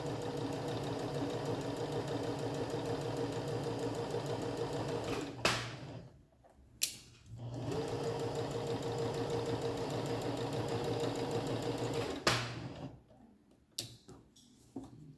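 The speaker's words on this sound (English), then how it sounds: "Now it's pretty much straight stitching." A sewing machine runs a straight stitch on pajama bottoms, a steady rapid whirring hum with fast rhythmic ticking, pausing briefly twice before starting up again and then stopping near the end.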